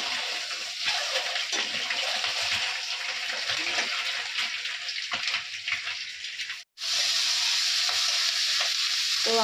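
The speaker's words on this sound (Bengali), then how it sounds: "এখানে ডিমগুলো ভাজা হচ্ছে" Fifteen eggs fry together in a pan with a loud, continuous crackling sizzle and some stirring noise, which cuts out for a moment before resuming.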